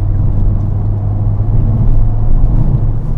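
Honda Civic Type-R FK8 engine humming steadily from inside the cabin while driving, a loud continuous low drone with a slight whir that holds constant throughout.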